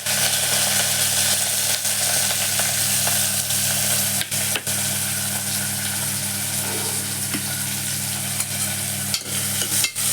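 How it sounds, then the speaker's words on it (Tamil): Chopped onions fry in hot oil with cinnamon, cardamom and cloves for a mutton pepper soup, a steady close sizzle with faint stirring scrapes throughout. "வெங்காயம் போட்டு நல்லா எண்ணெயில் கொஞ்சம் நேரம் வதங்கட்டும்"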